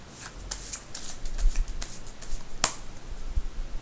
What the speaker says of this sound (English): And just a little overhand shuffle.